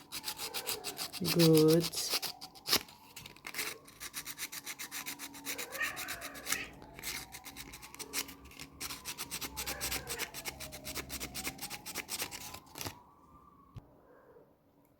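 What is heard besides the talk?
sanding Barbie doll neck with sandpaper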